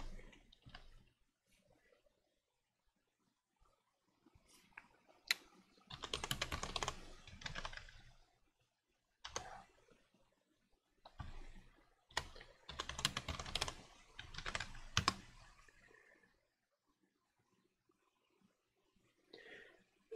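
Typing on a computer keyboard, close, quiet key clicks coming in irregular bursts of rapid strokes separated by short silences.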